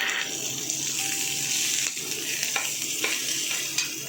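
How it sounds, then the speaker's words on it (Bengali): Ginger and onion sizzle and fry in a pan for a mustard greens dish, with a steady hiss broken by the scrape of stirring and a few soft clinks close by. "আদাটাকে ভালো করে ভাজা হলো, তারপরে আমি পেঁয়াজ দিয়ে দিলাম।"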